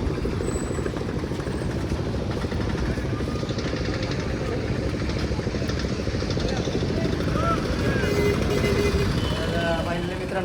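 Auto rickshaw engine droning steadily during a ride near Dwarka, a continuous close rumble with road noise, with people talking over it.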